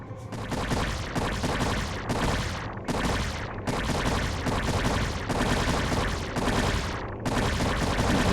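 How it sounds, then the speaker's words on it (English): Units in StarCraft attack and blow up a barracks, dense continuous gunfire and explosions rattling on for several seconds with only brief dips, loud and busy. "so we're going to go ahead and blow up this barracks"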